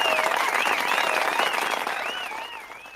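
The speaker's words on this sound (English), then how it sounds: "Give the man a round of applause." Audience applause after a correct answer on a talk show, a dense, steady wash of clapping with a tonal whistle-like sweep running over it, fading slightly toward the end.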